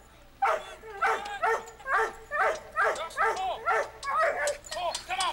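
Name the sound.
dog barking during weight pulling competition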